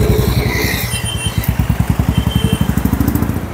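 A motorcycle or scooter on a Guwahati city street revs close by and its engine settles into a fast, regular putter, loud and near, with no talking.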